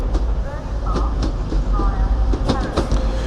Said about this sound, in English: Arriving in now is your 1839 Transpennine Express service from Manchester Airport to Saltburn